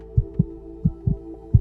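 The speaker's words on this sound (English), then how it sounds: "I shot up in bed, heart pounding" A pounding heartbeat, five distinct low thumps in an uneven rhythm, close and fairly loud against a quiet hum.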